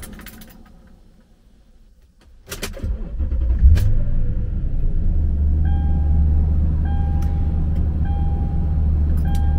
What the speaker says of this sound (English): Let's turn the truck off